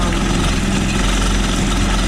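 Steady low rumbling idle of a Kawasaki Ultra 310 jet ski engine running during a freshwater flush, close and continuous with a faint vibrating drone.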